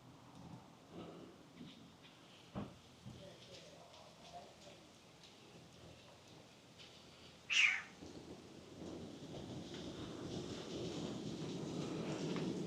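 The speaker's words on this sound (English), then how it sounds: "it's getting windy now, like it's going to push the rain in" Gusty wind rushes steadily under a tree canopy in Innisfail, Australia, building toward the end, with approaching rain swelling beneath and a sharp knock partway through.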